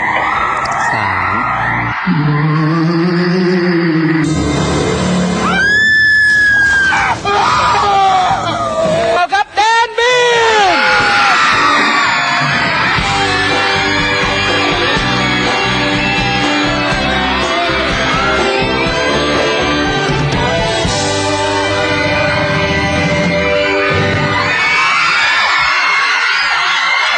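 A crowd at a 2007 show in Saranae screams and yells in a loud, sustained wave that keeps going under music and amplified voices.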